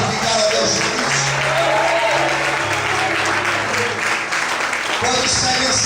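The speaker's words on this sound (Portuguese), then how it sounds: "Será que você pode aplaudir e glorificar a Deus por isso?" A church congregation applauds during a sermon, sustained dense clapping from many hands filling the room at steady loudness for the whole stretch, with no speech over it.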